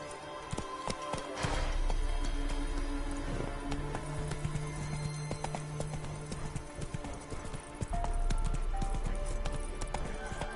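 Roach, the horse in Witcher 3, gallops with steady clip-clop hoofbeats under game music and ambience, loud and continuous.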